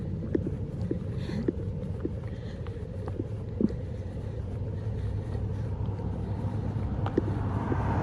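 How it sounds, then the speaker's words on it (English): A four-wheeler and a big truck behind it pass on US Highway 50 in Nevada, heard from the roadside as a steady rumble of tires and engines under gusty wind noise. "Four-wheeler coming and a big truck behind it."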